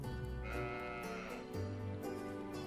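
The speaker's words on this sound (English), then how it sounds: "Ooh, another sheep." Sheep bleat in the Trails of Cold Steel 4 video game, several wavering bleats over continuous game background music, fairly quiet.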